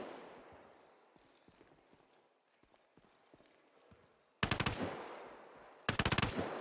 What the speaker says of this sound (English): those shots sound really close